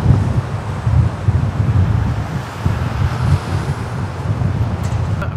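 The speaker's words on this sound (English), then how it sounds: "It's freezing and windy." Strong outdoor wind buffets a Sennheiser MKE 400 microphone used without its windshield on a freezing day, loud continuous low rumbling gusts swelling and easing.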